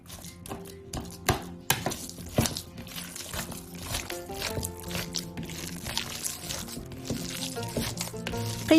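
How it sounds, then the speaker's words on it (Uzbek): Minced meat for Chicken Kiev cutlets slapped against a bowl to knead it, repeated wet thumps and squishes in an uneven rhythm, with background music running throughout. "yaxshi aralashishi uchun idishga urib pishitamiz"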